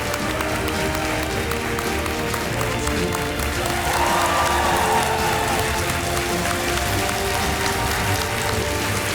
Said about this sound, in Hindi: तालियों के साथ उनका स्वागत।